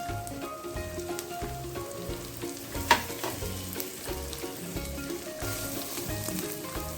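Ginger garlic paste sizzles in a pan while being sautéed for potato pulao, a steady crackling fry with a single sharp clink of the utensil partway through and faint background music underneath.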